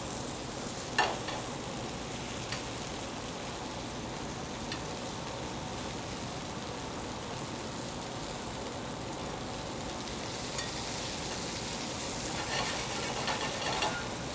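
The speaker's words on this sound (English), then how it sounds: "I like to go really high heat with plenty of oil in the pan" Food sears in plenty of very hot oil in a pan over high heat, giving a steady, fairly quiet hiss that swells slightly near the end, with a few faint clicks and no voices.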